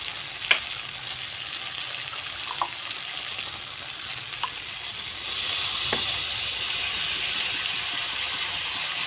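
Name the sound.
water poured into sautéed spices for boal fish curry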